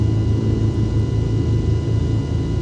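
Piper Arrow Turbo piston engine running just after start-up in the X-Plane flight simulator, a steady, loud low rumble with a throbbing idle pulse and a broad hiss of noise, heard alone.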